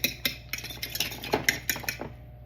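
Egg wash whisked in a bowl with a fork or utensil, giving a run of quick metallic clinks and scrapes against the bowl, close and fairly steady with no talk.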